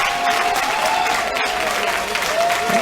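A wrestling crowd at a match between ERA and Jesse Neal applauds and cheers steadily, a dense, loud wash of clapping and crowd noise that does not let up.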